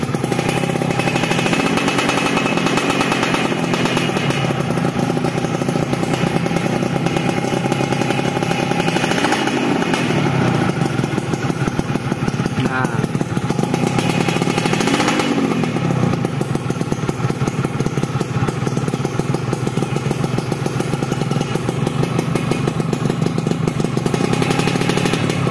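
A modified Yamaha F1ZR two-stroke motorcycle engine is revved hard up close, a loud, raspy, buzzing drone that holds steady throughout with a couple of throttle swells rising and falling.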